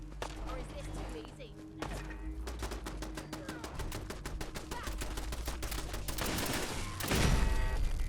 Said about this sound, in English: Because you're shooting me with a pea shooter.